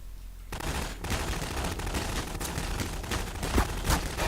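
Assault-rifle gunfire in a first-person shooter game, dense rapid bursts starting after a brief quiet moment and continuing loud and steady with sharper individual shots near the end.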